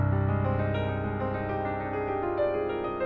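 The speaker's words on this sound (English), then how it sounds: "The first one's called natural minor." A natural minor scale is played as a run of clear sustained pitched notes, each step moving to the next over about three seconds, heard alone with no talking.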